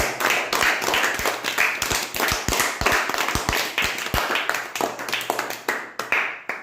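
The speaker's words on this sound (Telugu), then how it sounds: "క్లాప్స్ కొట్టండి" A group of children clapping in quick, uneven rhythm, many close hand claps in bursts over several seconds with no talking.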